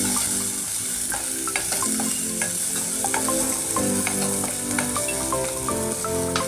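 Drumstick and onion mixed vegetables sizzle in a pan after a ghee tempering, a continuous close frying hiss with repeated spatula scrapes and taps as they are stirred.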